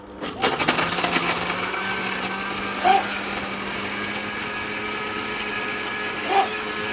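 A mixer grinder whirs steadily at high speed throughout, a constant motor drone with a couple of brief bumps, close and loud.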